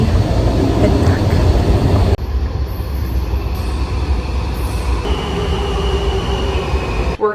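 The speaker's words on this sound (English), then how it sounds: "Now getting the train, heading" Riding a train in Washington DC: a loud, continuous rumble of the carriage fills the ride, with a sudden shift in tone partway through and a faint high whine above the steady rolling noise.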